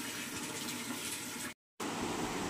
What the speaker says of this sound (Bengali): জল ভরে নিই, জল ভরে নিয়ে তারপরে দেবো হচ্ছে গাছের মধ্যে জল